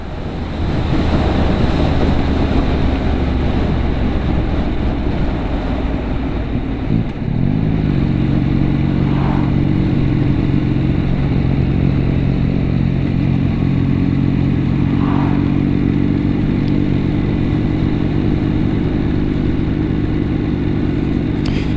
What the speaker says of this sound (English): Dale's saying the Benelli, it's tricky in 30 zones because it's just a stop-start bike, really. It really wants to go